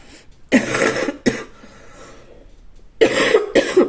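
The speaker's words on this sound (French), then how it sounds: "Je tousse encore et toujours." Four harsh, close coughs come in two pairs, separated by a short quiet pause, with no talking.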